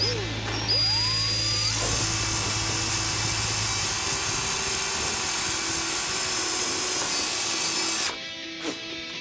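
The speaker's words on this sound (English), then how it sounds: "Then we'll flip it back on the other side so we can drill our hole." A power drill whines steadily while boring a hole through a carbon fiber splash pan on a Mustang GT, loud and close, its pitch dipping briefly at the start before running even and stopping abruptly near the end.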